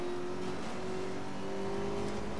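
Porsche 918 Spyder Concept engine in the racing game Need for Speed: Most Wanted (2012), a steady sustained drone at cruising speed, fairly quiet and continuous with no talk over it.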